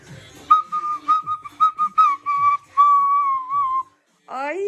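A toy whistle flute toots a series of short, bright notes, then a longer wavering one, followed by a rising warbling squeal.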